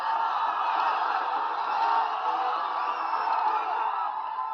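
Crowd of protesters surging towards Parliament, a continuous dense roar of many distant voices with shouts and yells blending together, steady and muffled with no single voice standing out.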